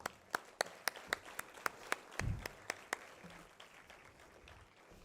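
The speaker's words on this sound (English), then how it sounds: "And I think they deserve a big round of applause for that." A convocation audience applauds a valedictory speech, distinct claps in a steady rhythm, few and faint as if from a distance, over low background noise.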